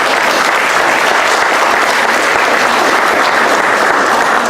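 Steady, loud applause from a seated audience during a talk on the new criminal procedure code, holding at an even level without a break from start to finish.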